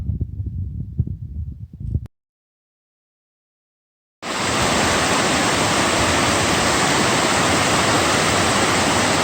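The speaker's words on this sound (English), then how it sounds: "This is Wardens Falls on the Tuckasegee River." Wardens Falls on the Tuckasegee River roars as a loud, dense, unbroken rush of water, arriving abruptly after a brief muffled stretch and a moment of silence.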